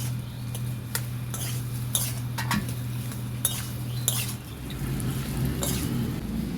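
Fried nuts and boiled peas are stirred into a singara filling in a pan, with repeated scraping and clinking of a spoon against metal over a low background hum and a soft sizzle; no talking.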